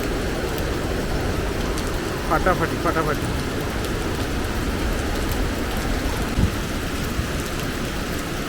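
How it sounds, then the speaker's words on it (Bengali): Heavy monsoon downpour near a swollen waterfall pool in Keonjhar, heard from a second floor: a dense, loud, continuous roar of rain with a brief voice exclaiming over it. "দেখুন কীরকম মুষলধারায় বৃষ্টি হচ্ছে"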